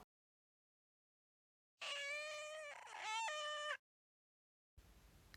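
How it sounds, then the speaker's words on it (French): A domestic cat gives one clear, drawn-out meow of about two seconds, close and isolated against silence, followed by a faint noisy tail. "Le chat miaule."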